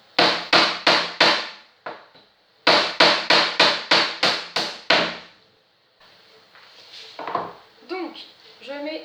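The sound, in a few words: hammering nails into wood for a shoe carousel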